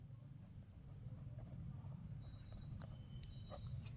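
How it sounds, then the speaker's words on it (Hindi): Faint scratchy strokes of writing on a board while a class 10 maths problem is worked out, short scraping marks coming in irregular bursts over a low steady room hum, with no talking. "यहाँ पे हम लिखेंगे"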